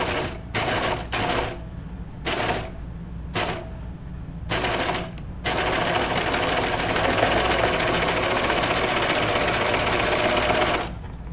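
A sewing machine sews a 5/8 inch seam in knit fabric for a dress, first in several short stop-start bursts, then in one long steady run, close and loud with no talking.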